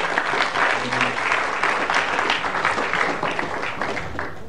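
Applause from a conference audience at the close of a PyCon APAC 2018 talk, a full, even patter of many hands that tapers slightly toward the end.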